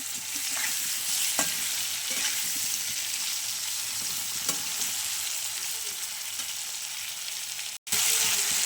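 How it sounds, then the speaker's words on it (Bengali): Potatoes and tomatoes fry in a pan with a steady close sizzle, broken by scraping stirs throughout and a brief cut near the end. "ভাজা ভাজা হয়ে যাবে, কষানো হয়ে যাবে"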